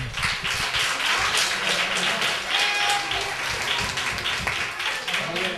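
Families and guests clap at a season-closing ceremony for a youth football team of UD Roteña in Spain, steady, fairly loud applause with distinct nearby claps and a murmur of voices underneath.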